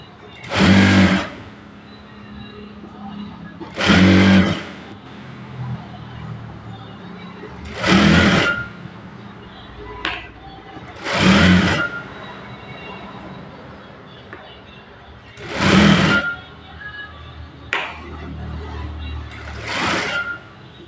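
A sewing machine stitches a blouse in repeated short bursts of whirring, about six runs spread across the stretch, with pauses between them and talk heard throughout.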